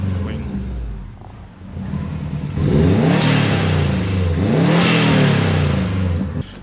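Engine of a 2004 Subaru WRX STI, first idling under a brief stretch of talk, then blipped into two loud rising revs near the car, each swelling and falling back.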